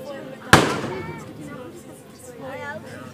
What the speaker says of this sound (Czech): Jo, jsou to petardy.